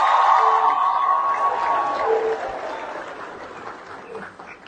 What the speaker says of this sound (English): Clap louder for them than you did for yourself.